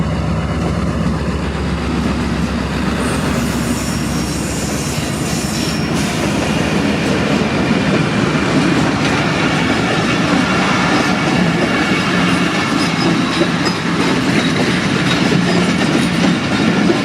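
The Rahman Baba Express passes close through a quiet rural railway station in Sukkur, Pakistan, with loud continuous rolling wheels, rhythmic clickety-clack and faint squeals throughout.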